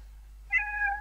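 A single cat's meow enters halfway through, rising into a clear harmonic cry that holds steady to the end over a quiet background with faint low hum.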